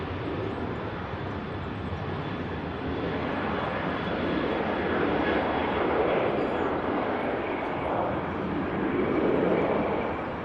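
Pegasus Airlines jet taking off from Manchester Airport, a continuous low engine roar that builds gradually and peaks toward the end, distant and sustained, with talk faintly mixed in.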